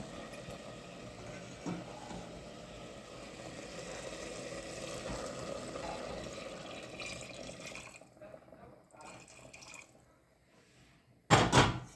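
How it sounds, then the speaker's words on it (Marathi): Hot water pours steadily into a pot of cooking goat mutton for several seconds with a sizzling, bubbling wash, then tapers off; a short clatter sounds near the end. "आता हे पाणी गरम झाले तर हे पाणी त्याच्यात ओतते आता"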